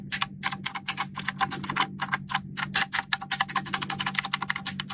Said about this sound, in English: the most clicky among all of them is this one. Now see the difference.